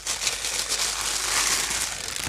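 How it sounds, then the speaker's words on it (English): Plastic bag from watch packaging for a Ratio Freediver 200m chronograph crinkles and rustles steadily at close range, a continuous crisp crackling with no voice over it. "Oh, a plastic bag."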